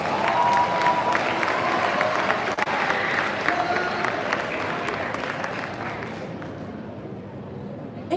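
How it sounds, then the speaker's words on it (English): Audience at a school prize day applauds young musicians with full, steady clapping that slowly thins and fades away toward the end. "Let's give our little musicians another round of applause."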